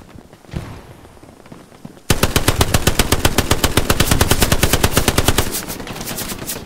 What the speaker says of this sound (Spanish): MG nos dispara.